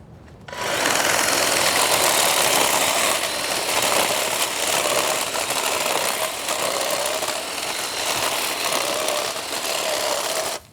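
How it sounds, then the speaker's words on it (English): A hedge clipper cutting down dry garden plant stalks in late winter starts abruptly and then runs in a loud, continuous buzzing whine with slight fluctuations before stopping. "the way I'm going to do that is using a hedge clipper"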